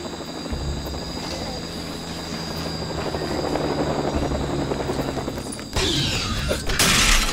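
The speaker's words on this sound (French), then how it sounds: "Il y a un autre hélico qui arrive!" A helicopter's steady rotor drone fills the scene in the LEGO The Lost World Jurassic Park video game, growing louder as it arrives, with bursts of game noise near the end.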